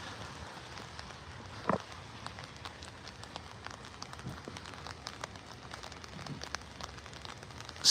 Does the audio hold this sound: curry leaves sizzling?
no